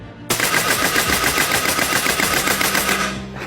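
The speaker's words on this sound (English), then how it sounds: "we're gonna switch to full auto and see what it can do here at 20" A PCP air rifle firing on full auto, one loud, steady burst of rapid evenly spaced shots that runs for about three seconds before stopping.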